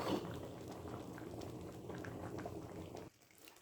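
Sambar rice bubbling in a pot over a medium gas flame, a steady soft simmering patter heard up close that cuts off abruptly near the end.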